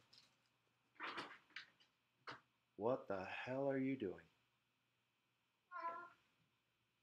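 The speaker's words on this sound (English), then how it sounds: "if you're hearing something scurrying in the background, that is the cat going insane" A house cat scrambles about and meows, with sharp scuffling bursts followed by a drawn-out yowl and a later short meow, close by in a quiet room, while someone speaks briefly.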